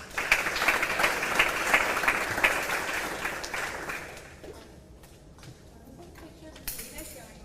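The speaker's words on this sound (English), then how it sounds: "Can we get one more round of applause for all our public" Audience at a county 4-H awards event applauding. Loud, dense clapping for about four seconds, then tapering to scattered claps and faint murmur.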